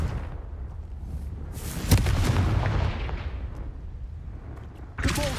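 Confringo fire spell in Hogwarts Legacy lands as a sudden blast that swells into a broad, rumbling burst and slowly fades over a low background bed, followed by a sharp new flare of sound at the end.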